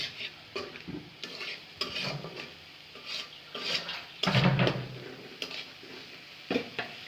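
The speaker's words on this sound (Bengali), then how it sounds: "লবণ আন্দাজ মতন দিতে হবে, যার যতটুকু প্রয়োজন দিয়ে এই মিক্সচারটা সুন্দর করে লাড়াতে হবে এভাবে" Spoon stirring a salted dried fish and spice mixture in a pan, a soft irregular scraping and rubbing with light sizzle, close and moderate in level, with no talk.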